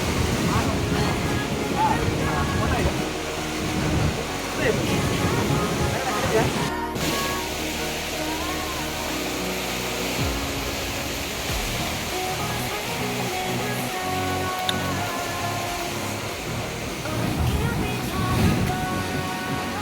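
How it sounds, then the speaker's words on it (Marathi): Sea waves surge and break by Worli Fort in Mumbai with a rushing roar that swells and fades, while wind buffets the microphone and voices come and go. "मस्त लाटा येतात"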